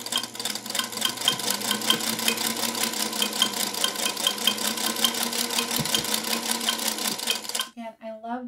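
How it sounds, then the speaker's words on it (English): A 1951 Singer Featherweight 221 sewing machine stitches steadily for about seven and a half seconds, its whirring mechanism chattering in a fast even rhythm close by, then stops abruptly, followed by a brief spoken remark. "And I love the sound of the stitching. You can hear all the mechanics whirring"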